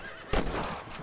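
A horse in the video game Red Dead Redemption lets out a loud, close whinny that rises sharply and trails off over about a second, with faint ambient game noise around it.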